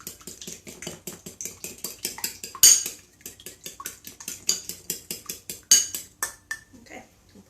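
A fork stirs a homemade granola mixture in a bowl, giving a fast, even run of close metallic scrapes and clinks against the bowl, with a couple of sharper knocks partway through and no talking.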